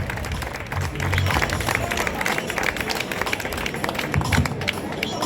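Audience applause at the Miss Reine de la Noisette pageant in Lavit de Lomagne, a continuous patter of many hands clapping from a crowd, with a few muffled low sounds and voices mixed in.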